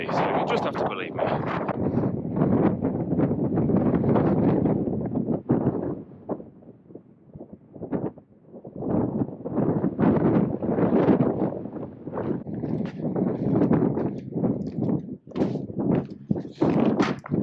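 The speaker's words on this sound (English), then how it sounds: "I've got to turn my hat on, it's that windy" Strong wind buffets the microphone in loud, continuous gusts with brief lulls, while a person talks throughout.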